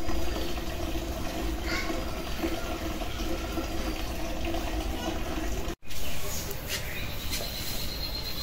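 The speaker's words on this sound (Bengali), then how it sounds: "একটু পানি দিয়ে দিচ্ছি, আর সামান্য একটু পানি দিয়ে দিই।" Water is poured over cabbage in a cooking pot to steam it, giving a steady splashing hiss that runs almost throughout with a momentary break near the end.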